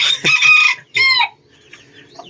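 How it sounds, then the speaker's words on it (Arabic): Ornamental chickens, including a rooster, cluck and crow close by in a garden setting, with loud bursts of calls followed by quieter scattered clucks. "دجاج الديكور، دجاج الزينه او دجاج الزينه"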